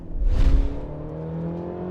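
A 2024 Mercedes-Benz GLC engine gives a loud revving surge, then settles into a steady, sustained drone at high rpm after the throttle is released.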